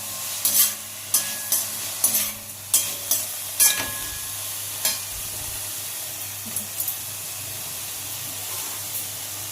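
Masala with salt sizzles steadily in a pan for a crab gravy, with repeated scraping strokes from a stirring utensil early on that thin out into continuous frying hiss.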